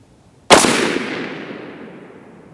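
A single loud crack from a 6.5 Creedmoor rifle firing an 85 grain Sierra hollow point varmint bullet, sharp onset followed by a long fading echo tail over about two seconds.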